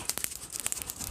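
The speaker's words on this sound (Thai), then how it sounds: "นี่เสียงแคกรัวแล้วนะครับ" Rapid, faint crackles and pops scatter quickly over a soft background hiss as coffee beans crack while roasting in a screen roaster over a charcoal stove.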